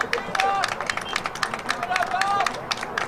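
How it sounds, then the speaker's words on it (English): Scattered crowd clapping rises at a girls' junior varsity high school soccer match between Patrick Henry and San Diego High, steady and moderately loud beneath continuous commentator talk. "Gets a round of applause by her efforts."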